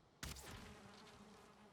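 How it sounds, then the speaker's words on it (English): Bees buzz near a hive in the video game Valheim, a sudden onset followed by a steady droning hum that holds close and moderately loud. "So I hear the bees."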